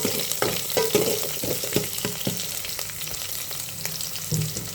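Onion and chili sizzling in hot oil for an aloo egg curry, with steady frying hiss and repeated stirring scrapes, close and alone.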